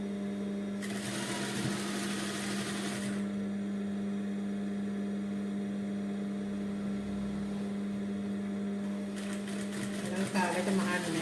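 An electric sewing machine stitches a bra slowly and steadily, its motor humming continuously throughout with a brighter whirring burst near the start and again near the end, under quiet background sound.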